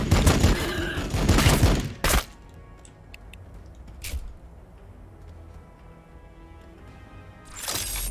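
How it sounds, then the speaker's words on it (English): Fire support gunfire in Warhammer 40,000: Battlesector, a loud rattling barrage followed by a sharp crack, then distant scattered impacts and another burst near the end; no talking. "Fire support. Lining up anti-swarm firing solution."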